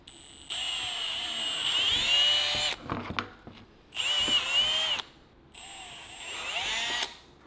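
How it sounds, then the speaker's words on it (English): Power drill boring holes in a part for a Yamaha YZ125 motocross bike build, three loud close bursts of whining high-pitched drilling separated by short pauses with clunks and handling noise, no talk. "We're just going to drill some holes"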